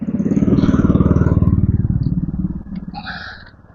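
Motorcycles and tricycles pass on a road, a close, loud pulsing engine putter that throbs steadily before receding, with faint horn-like tones at the end and no talking.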